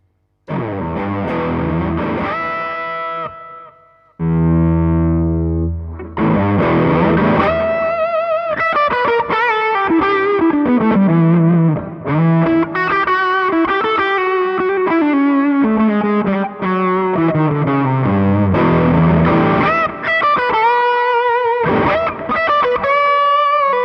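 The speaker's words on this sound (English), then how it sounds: "we'll go to the crunch setting. This is supposed to be more of a kind of British distortion kind of sound." An electric guitar plays through a Wampler Ecstasy overdrive pedal on its crunch setting, a British-style distortion: loud, saturated chords and sustained single-note lines with a brief pause near the start, played alone without talk.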